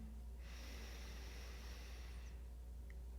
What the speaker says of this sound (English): take a deep inhale with me